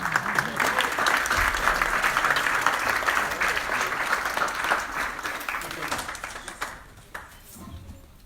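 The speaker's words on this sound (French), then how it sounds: "Je crois que vous pouvez l'applaudir." An audience at a Lions Club francophone gathering applauds, a full, lively wash of clapping with some murmured voices underneath that thins out and fades toward the end.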